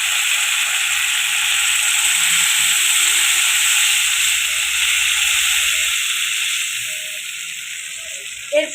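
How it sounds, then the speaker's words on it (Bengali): Water hitting hot oil in a pan, a steady loud hiss and sizzle that runs continuously and eases slightly toward the end, with a brief clatter at the close. "এরপর জল দিয়ে দেবো"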